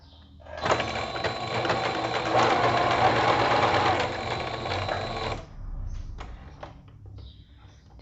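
Domestic sewing machine stitching a homemade fabric bias binding, a loud steady mechanical whir of rapid needle strokes running for several seconds before stopping, followed by quiet handling noises.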